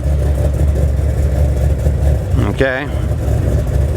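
Running at idle just after starting, a Pontiac G8 GT engine gives a steady low rumble with a slightly choppy, uneven beat, fairly close; someone briefly speaks over it.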